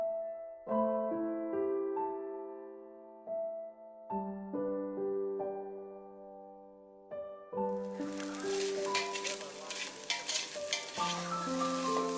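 Khichdi is stirred and fried in a pot on a makeshift stove. A harmonium-like melody plays first, then a thick sizzling, scraping fry noise joins it for the second half, with no speech.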